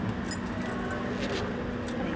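Duplicate keys for a 2024 Mitsubishi L300 jangle briefly in a hand, light metallic clinks over a low vehicle and room background.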